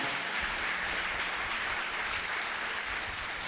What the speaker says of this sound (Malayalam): നമുക്ക് നല്ലൊരു കയ്യടി സ്വാലിഹിനായി നൽകാം